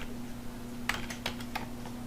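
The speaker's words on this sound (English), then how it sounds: "Let's type in, like blah, and type in whatever." A few sharp keystrokes on a computer keyboard click in a short cluster partway through, faint against a steady low electrical hum, with no talk.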